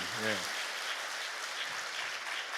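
Congregation at a Korean church revival service clapping to give glory to God, a broad wash of steady applause filling the room after a brief spoken phrase at the start.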